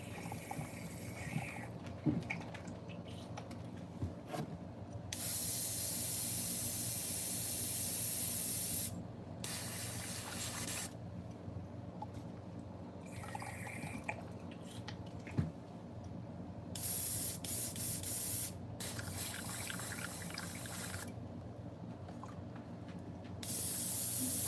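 An airbrush sprays paint onto fishing lures in repeated hissing bursts of several seconds each, separated by quiet pauses with faint handling clicks.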